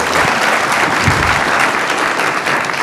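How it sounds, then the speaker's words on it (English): A big audience at a motivational seminar gives a dense, steady round of applause, loud and continuous throughout with no break. "Give her a round of applause."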